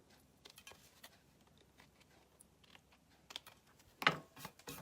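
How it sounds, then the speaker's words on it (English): Gold or silver card pieces being trimmed, a series of light, quick snips and clicks close by and quiet, with one sharper cut near the end. "So now we can trim these off."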